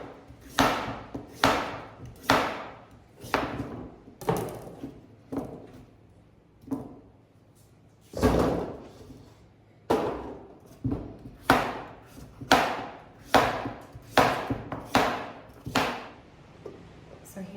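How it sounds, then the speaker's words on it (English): A knife chops through peeled, de-seeded pumpkin on a board in a series of sharp, close thuds, some in quick runs and some spaced apart, with a short pause near the middle. "Now I'm just gonna chop this up into more manageable pieces."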